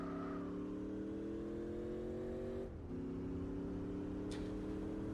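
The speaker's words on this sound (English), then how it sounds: "listen to how fucking good that engine noise sounds" Race car engine from Gran Turismo 4 with the Spec II mod, a loud sustained high engine drone with a brief dip as it shifts gear, then steady again.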